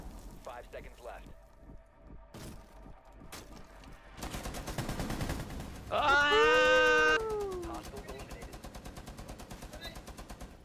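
Gunfire in the Siege video game: scattered single shots give way to rapid, sustained automatic fire, close and loud, with a brief high wailing tone over it partway through.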